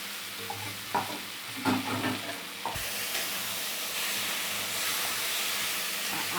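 Ginger garlic paste frying in hot oil for a tadka, a close, continuous hiss and sizzle, with a few spoon scrapes and knocks early on before it settles into steady frying.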